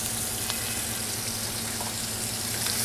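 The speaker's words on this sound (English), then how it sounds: "You see at that high heat too, you get a nice sear on the edges of the onion." Onions fry on high heat in melted butter, giving a steady, close sizzle with faint crackles throughout and no talking.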